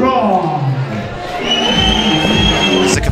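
A capacity crowd cheers and shouts at a cage fight night in Bradford, a loud dense roar of many voices with rising whoops and a sustained high yell toward the end.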